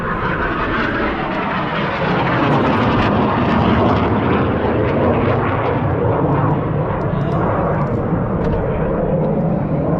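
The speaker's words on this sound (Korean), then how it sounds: "여기는 이제 공군기지가 있다 보니까 이게 전투기가 날아다닙니다. 너무 시끄럽죠." A loud, roaring jet engine noise fills the air continuously, a broad rumbling whoosh of fighter jets passing overhead near an air force base.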